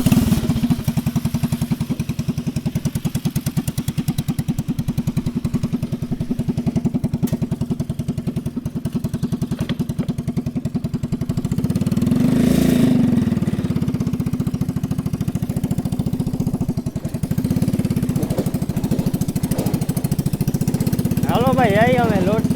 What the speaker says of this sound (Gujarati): હાલો જોઈએ આ ટ્રેક્ટરની કેવી તાકાત છે ત્યાં જઈને આપણે ચેક કરીએ